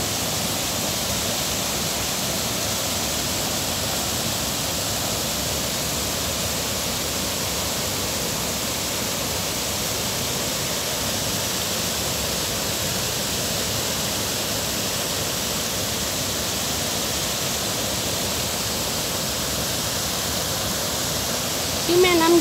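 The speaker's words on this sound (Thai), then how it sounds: "นี่แม่น้ำยาวนะเจ้า" Steady, loud rushing river water, swollen after several days of rain, flowing continuously, a broad full hiss with no pauses.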